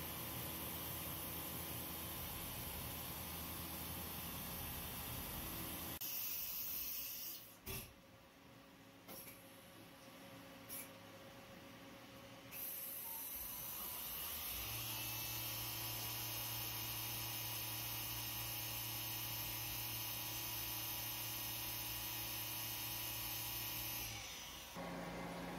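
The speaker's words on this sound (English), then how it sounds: "Then it's put on the bigger mill where I do the backside, or I call it the blank." A mill cutting the base, threaded hole and chamfers on a branding iron blank in a workshop, a steady machine hum and cutting noise that drops away briefly, then resumes with a stronger, even drone before stopping.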